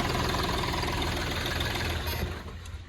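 A 2017 Hyundai i10 Magna diesel engine idles with a steady, close, low rumbling clatter that holds evenly before easing slightly at the end.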